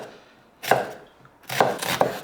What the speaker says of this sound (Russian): Одну крупную луковицу мелко-мелко